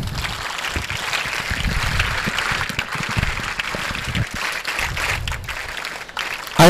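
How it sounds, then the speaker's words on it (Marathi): Students clapping together at a school educational guidance session, a dense, steady wash of hand claps that stays fairly loud and even throughout, with no voices standing out. "टाळ्या वाजवा त्याच्यासाठी."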